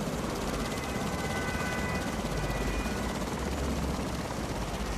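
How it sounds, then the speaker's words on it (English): A jet blasts in the VR plank-walking game Richie's Plank Experience, a loud, unbroken roaring rush that fills the whole stretch with no talk over it. "Jet blasting."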